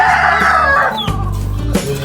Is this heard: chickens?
yes